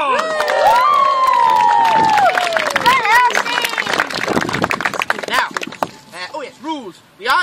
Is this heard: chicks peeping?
no